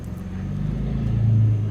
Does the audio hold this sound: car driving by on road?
yes